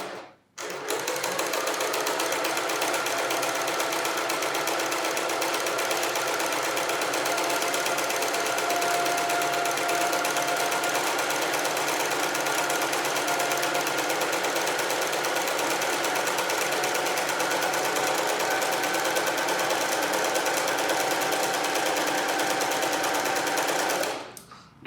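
A sewing machine runs steadily, stitching a concealed zip cushion with a continuous fast whirring buzz for over twenty seconds, starting and stopping abruptly, close and alone without talk.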